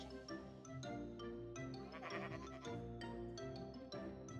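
Sheep bleating on a Minecraft sheep farm, repeated faint video-game bleats layered over a steady tonal background.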